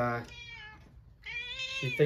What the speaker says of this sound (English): Sorry if you just heard my cat.